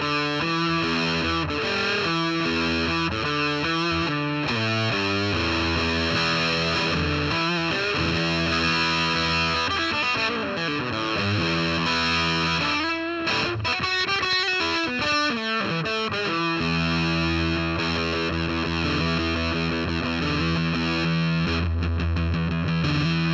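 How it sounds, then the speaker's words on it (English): Electric guitar played through a Siren Pedals fuzz pedal with a mid boost, aggressive and saturated, with continuous riffing and chord changes over more than twenty seconds, loud and alone. "just a little bit more aggressive type Okay, fuzz."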